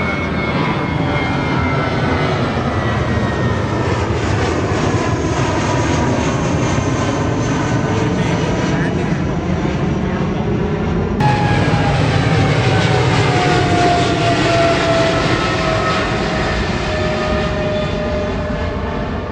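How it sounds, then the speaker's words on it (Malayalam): Two airplanes take off one after the other from an airport, a loud continuous jet engine roar that swells and shifts in pitch, with a fresh surge of thrust partway through as the second aircraft departs. "ഇപ്പോൾ ഒരു 2 വിമാനങ്ങൾ ഇവിടെ നിന്ന് ടേക്ക് ഓഫ് ചെയ്യുന്നതാണ് നമ്മൾ ആക്ച്വലി കണ്ടത്"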